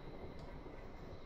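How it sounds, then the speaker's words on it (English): A train passes in a railway simulator game on the Portsmouth Direct Line near Haslemere, a steady low rumble of wheels and carriage noise running throughout at moderate, distant level. "That's the train we're waiting for."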